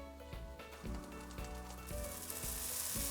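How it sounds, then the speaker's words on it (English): Shredded kataifi pastry sizzles in a frying pan, a steady crackling fry with rhythmic scraping and clinking as it is broken up and stirred. "I'll break it up in a frying pan."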